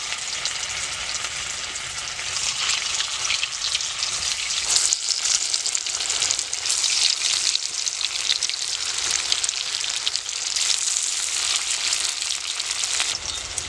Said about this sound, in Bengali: এই কড়াইশুটির পিসগুলো ভাজার জন্য কড়াইতে আমি প্রথমে তেল দিয়ে দেব